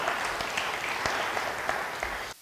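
A church congregation claps together during a sermon, a steady, fairly loud wash of applause with a few sharper claps standing out, ending abruptly.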